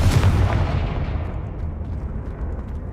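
A Confringo blasting-spell explosion in Hogwarts Legacy, a loud heavy blast at the start whose rumbling roar slowly fades across the next few seconds, with no voices.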